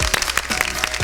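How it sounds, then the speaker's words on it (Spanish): Brief burst of applause from a gala audience greeting guests from a vaccinology society. Close, crisp individual claps land in a quick, uneven rhythm. "¿Le damos un aplauso?"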